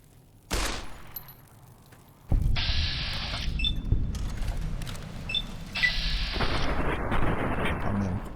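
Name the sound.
gunfire in the video game Fallout New Vegas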